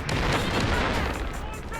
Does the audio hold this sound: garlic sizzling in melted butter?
no